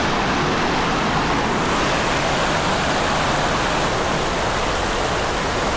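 Creek water flows steadily below Carpenter Falls while someone wades upstream, a loud, continuous broadband rush of moving water close by with no breaks.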